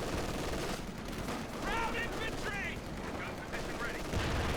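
Sustained automatic machine gun fire in the real-time strategy game Company of Heroes 2, dense and continuous, layered with explosions and battlefield din, with brief shouted in-game voices in the middle.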